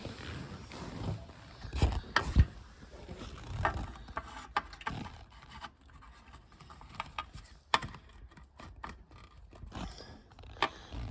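Socket ratchet wrench working under the seat of a blue MK2 VW Golf GTI 16v, giving close, intermittent clicking and scraping bursts with small mechanical knocks and quiet pauses.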